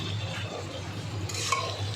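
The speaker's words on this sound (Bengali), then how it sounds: "ভালো করে নাড়িয়ে নেব" A spoon scrapes and stirs Bengali chal kumro sukto, an ash gourd curry, as it dries down in a pan. The sound is a quiet, close shuffling over a low sizzle, with one sharper scrape near the end.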